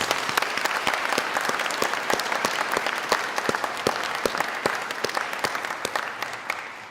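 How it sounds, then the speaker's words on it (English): A large audience at a cardiac and vascular biology centre launch applauds warmly, dense sustained clapping at fairly close range that carries steadily for about seven seconds with no talking. "Ladies and gentlemen, please give them a big round of applause."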